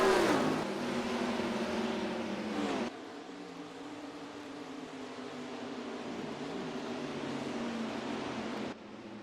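NASCAR stock cars in the NASCAR Racing 2003 sim at Sonoma, an engine roaring past with a steady high drone after a brief louder pass at the start, fairly close and sustained, with no talking.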